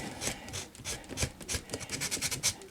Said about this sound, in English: this stuff is sanding up like a dream. I'm using a fairly aggressive sandpaper